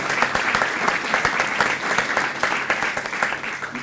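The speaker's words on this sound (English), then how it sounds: "Have a round of applause." Warm audience applause at a golf club scholarship awards event, many hands clapping steadily with some individual claps standing out nearby.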